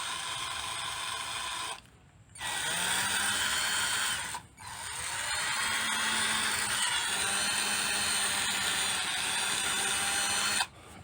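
A Jishou 21V cordless drill runs with a steady, smooth whir, loud and close, stopping briefly twice and restarting, with no talk over it.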